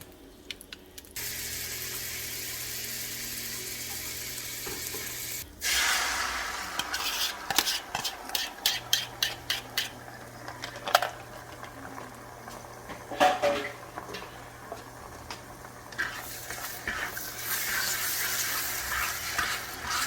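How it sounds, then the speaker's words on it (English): Eggs fry in butter and sausage grease in a pan, a steady sizzle with scraping stirs and clatters of the utensil against the pan, fairly close. "We're going to add a little bit of butter to our pan, let it melt, and cook those eggs in it."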